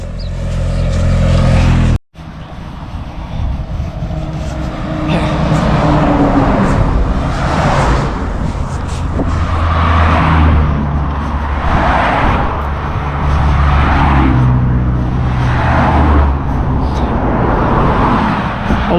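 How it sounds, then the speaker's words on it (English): Steady road traffic on a busy country road rolls past in repeated waves, several vehicles swelling and fading one after another under continuous loud wind-buffeted rumble, following a brief cut near the start. "All of a sudden there's a lot of traffic on this road now"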